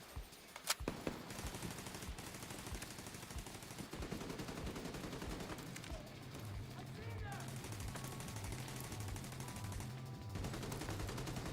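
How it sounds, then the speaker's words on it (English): Minigun fire in a video game rattles in dense, continuous bursts amid layered game sound effects and music, with voices talking over it. "Minigun fight!"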